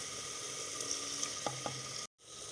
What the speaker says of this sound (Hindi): अब इन्हें मैं अच्छे तरीके से जो है वो भून लूँगी, टमाटर गल जाएं एक दफ़ा।